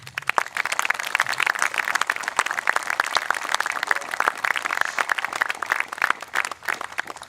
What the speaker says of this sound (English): we give VFW Post 239 a round of applause